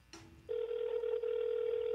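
Telephone call audio: a short dialing burst, then a steady continuous ringback tone holding loud and unbroken for over a second, heard alone with no talk over it.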